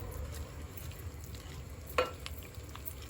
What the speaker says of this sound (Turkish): bir adet yumurta, 2 yemek kaşığı unu, yarım kilogram süzme yoğurdumuzu koyup çırpıyoruz